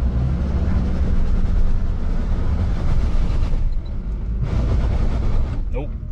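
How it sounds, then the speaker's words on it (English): A pickup truck engine roars steadily while climbing a steep hill of tall grass, with loud continuous rumble and brush noise close by, easing briefly before pushing on again. "Let's see if I make it up this hill."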